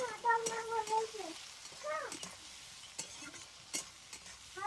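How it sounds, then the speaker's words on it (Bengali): Eggplant frying in oil with turmeric and salt in a village kitchen, a quiet sizzle broken by stirring scrapes and clinks, with a few short tonal sounds over it. "তো বেগুনটা তেলে দিয়ে দিয়েছি, তেলে একটু ভেজে নেবো বেগুনটা"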